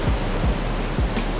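Strong ocean waves at Tondaligan Beach, a loud, continuous rushing surf with heavy low roar, close and unbroken, heard without talk over it.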